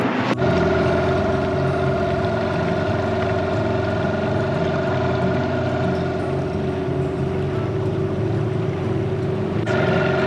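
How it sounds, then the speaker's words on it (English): A catamaran's boat engine runs steadily, a constant loud droning hum with no breaks and no talking. "We did get the engine started."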